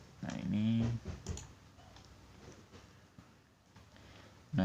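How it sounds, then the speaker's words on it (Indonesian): A Ctrl+Enter key combination pressed on a computer keyboard while working in Word 2016: a couple of soft, quick key clicks, close and quiet, between bits of talking. "kita kontrol enter dulu"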